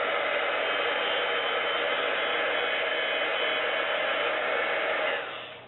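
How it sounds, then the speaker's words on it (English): A heat gun blows a steady, loud roar of hot air over an acrylic surface, holding constant for about five seconds before it begins to cut off at the end. "you're going to hit it with the heat gun again, just for a few seconds."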